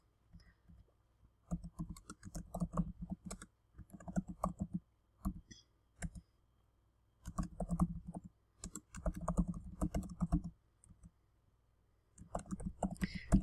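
Bursts of typing on a computer keyboard while entering quilt label lettering in BERNINA V8 embroidery software, a close, clicky keystroke patter in several runs separated by short pauses, with no talking.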